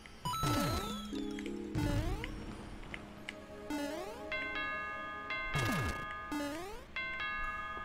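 Bright synthesized ding-dong chimes in Super Mario Maker 2 ring out repeatedly in quick succession, layered with sweeping tonal game sounds, loud and close with no talking.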